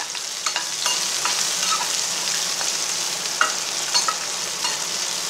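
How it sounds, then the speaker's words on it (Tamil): Onions sautéing in a hot pan for a Tamil banana-flower stir-fry, a continuous close sizzle with intermittent scrapes and taps of a spatula stirring them, no voices. "வெங்காயத்தை போட்டு கொஞ்சம் நேரம் கொஞ்சம் வதக்கணும்."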